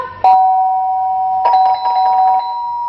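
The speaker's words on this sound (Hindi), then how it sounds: "ये घंटी किसने बजाई?" A loud, close electronic doorbell chimes twice, each tone ringing out and lingering before fading.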